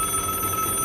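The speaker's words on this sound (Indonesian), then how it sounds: "Gua ada telepon." Telephone ringing with a steady electronic bell tone, moderately loud and continuous through the short moment, with no talking over it.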